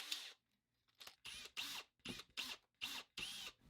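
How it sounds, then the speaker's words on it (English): A cordless drill used while working on a vehicle loop detector test rig, heard as a quiet series of about seven short, whirring bursts in quick, fairly even succession, with a brief pause near the start. "because I'm in a hurry, I'm going to use my cordless drill."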